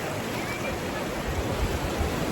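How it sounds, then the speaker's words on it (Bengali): Large sea waves break on the beach at Cox's Bazar, a steady broad roar of surf washing continuously with no distinct separate crashes, loud and close throughout. "বিশাল বিশাল ঢেউ আর ভাই আসতেছে আগে"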